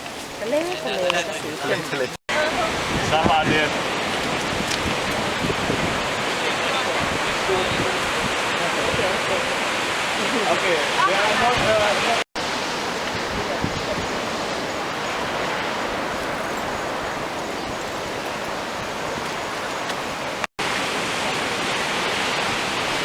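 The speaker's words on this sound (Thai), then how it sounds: "เรามาเจอทะเลแล้วครับ" Sea waves wash steadily against the coast of Bali below a hilltop temple area, a continuous broad rush that runs the whole time under people talking nearby.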